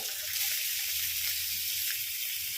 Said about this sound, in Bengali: এটাকেও ভালো করে ভেজে নিচ্ছি।